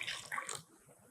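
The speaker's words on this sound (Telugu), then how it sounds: "ఆ వాటర్ తీసుకుని దీంట్లో వేయండి." Boiled water poured onto flowers in a container, a brief close splashing pour lasting about half a second before fading to quiet.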